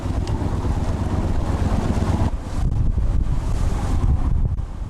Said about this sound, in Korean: 매서운 바람에 제멋대로 요동치는 조각배.